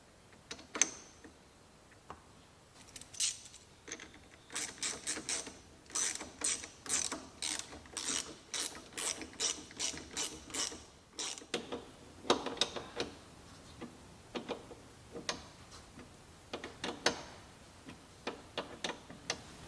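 Hand tools ratchet in quick, quiet runs of clicks while a brake caliper is refitted on a Cessna 140, with bursts of rapid clicking separated by short pauses and occasional clunks, with no talking.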